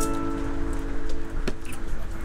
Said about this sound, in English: Thank you for putting up with the rain.